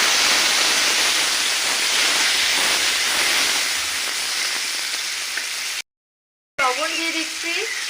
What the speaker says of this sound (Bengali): এরপরে কড়াতে যে তেলটা আছে সেই তেলটার মধ্যে করলাগুলো ভেজে নেব।